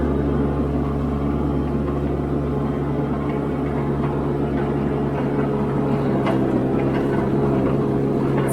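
A mini skid steer runs steadily in high gear, its engine a loud, constant droning hum with a strong low tone throughout and no speech.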